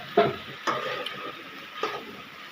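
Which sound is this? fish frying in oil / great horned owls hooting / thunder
fish frying in oil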